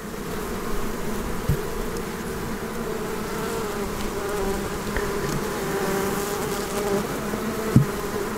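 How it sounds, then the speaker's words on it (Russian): Honeybees drone steadily around a strong hive with its frames fully covered, a dense continuous buzz close by with no speech and a few brief louder passes. "так полностью все рамки обсижены пчелами"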